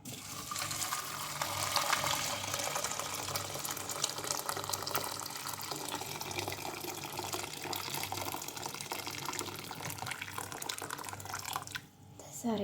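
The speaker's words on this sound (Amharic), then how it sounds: "ከዛ የፈላ ውሃ" Boiling water poured into a henna hair mixture, a steady broad watery rush running continuously for about twelve seconds at moderate level, ending abruptly near the close.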